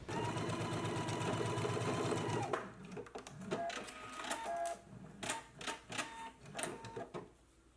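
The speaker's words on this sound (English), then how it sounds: "we can go ahead and stitch right between those two dots" A sewing machine stitches a bodice seam on a Simplicity S9702 dress, running in a steady, even whir for a couple of seconds, then breaking into short stop-start bursts of stitching with clicks and handling noises.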